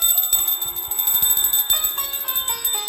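A small hand-held prayer bell rings continuously and loudly at close range during an evening aarti for Laddu Gopal at home in Mumbai, its rapid bright strokes steady throughout with no talking.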